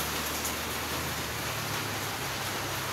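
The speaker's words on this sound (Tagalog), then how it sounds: "Pero umuulan pa rin dito sa lugar namin." Nighttime rain falls hard and continuously, a dense even hiss of downpour close by with no breaks or voices.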